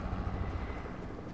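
A steady video game helicopter rotor drone, continuous and fairly faint, with no other sounds.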